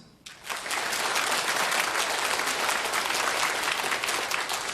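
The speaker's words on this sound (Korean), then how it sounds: "박수" Church congregation at Daejeon Jungmun Church applauding during a sermon, a loud, dense burst of many hands clapping that starts abruptly and continues evenly for several seconds without speech over it.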